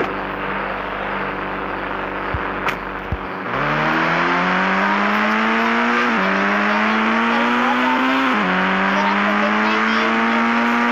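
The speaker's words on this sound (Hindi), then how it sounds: "तो हम लोग अपने इस गाड़ी से जाएंगे।" A car driven in a video game roars steadily at close range. The engine climbs in pitch and drops back at each of several gear shifts over about eight seconds, after a quieter idle with a couple of clicks.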